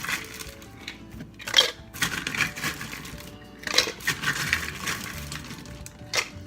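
Ice cubes dropped into a glass for sweet tea, a series of sharp clinks and clatters at irregular intervals, a few louder knocks standing out.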